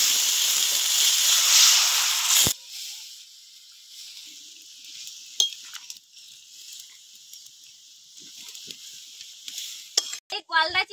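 Spice paste water poured into a hot pan of prawn curry (chingri macher kalia) bursts into a loud hissing sizzle that cuts off after about two seconds, followed by quiet stirring and occasional utensil clinks against the pan.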